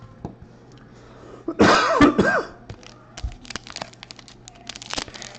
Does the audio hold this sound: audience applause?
no